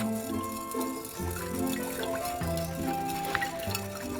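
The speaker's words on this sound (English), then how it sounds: "And so I'm going to keep swishing it around until those dissolve" Liquid sloshes and swirls inside a container as it is swished to dissolve cleaner for a Brown's gas machine, a close, continuous watery churning with faint tonal ringing and no talking.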